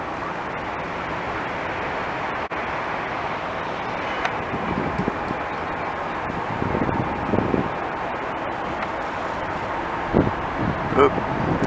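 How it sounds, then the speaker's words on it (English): Outdoor wind blows in a steady, broad rush and buffets the microphone, with a few gusts rising toward the end and a person speaking faintly under it. "Wind's picking up."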